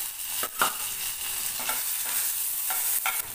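Urad dal and dried red chillies frying in hot oil for Tamil pirandai chutney give a steady, close hiss, with a few soft stirring scrapes near the start and end.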